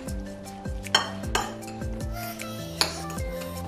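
A utensil clinks and scrapes against a bowl while spicy Maggi noodles are mixed with sriracha and habanero Tabasco, giving a run of close ringing metallic taps, two sharper clacks standing out.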